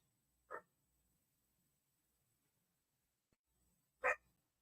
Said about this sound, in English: She's gonna have barks today.